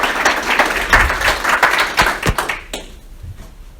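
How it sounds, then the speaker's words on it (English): Audience at a green business leaders meeting claps for a speaker, a dense patter of hands with a few sharper claps, fading out after about two and a half seconds into quiet. "give him a round of applause"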